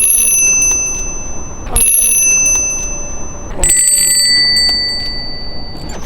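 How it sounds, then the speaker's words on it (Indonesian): Bell rung in a park in Japan, ringing three times with bright sustained metallic tones that ring out and slowly decay, clear and close. "bunyiin loncengnya"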